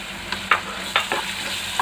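Marinated prawns, about 250 grams, fry with softened onions in a pan, giving a loud continuous sizzle broken by a few sharp stirring clatters, with no voices.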